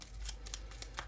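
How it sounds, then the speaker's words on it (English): Black Orchestra playing cards being shuffled by hand at close range, a run of quick papery riffles and soft snaps, about six crisp bursts over a low steady background hum. "I'm going to shuffle these up."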